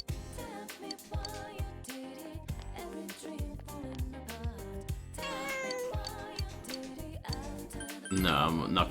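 A cat meows in the video game Persona 4 Golden, mixed among tinkling game chimes and music notes, with a louder burst of sound near the end.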